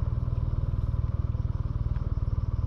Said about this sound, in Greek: άμα μαρσάρεις έτσι λίγο, κουνιέται η μηχανή δεξιά-αριστερά.